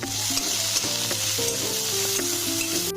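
Steady, loud sizzling of vegetables frying in a pan, with occasional utensil scrapes and clinks over the continuous hiss; no talking.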